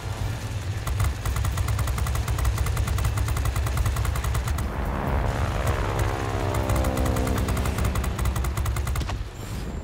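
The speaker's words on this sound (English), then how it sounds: "The thing about these, the guns don't overheat." Aircraft machine guns fire in a continuous rapid stream in World of Warplanes, aboard the Di-6i biplane, over a loud droning engine, close and relentless, with no pause until the end.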